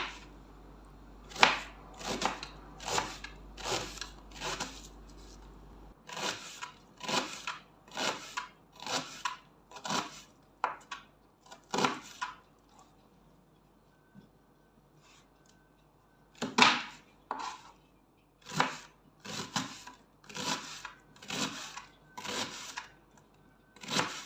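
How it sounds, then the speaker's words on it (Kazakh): Onions are chopped with a knife on a board for Uzbek plov. Crisp, sharp strokes come in quick rhythmic runs, then stop for a short pause before resuming. "Пиязымызды өз ыңғайыңызға қарай турап аламыз."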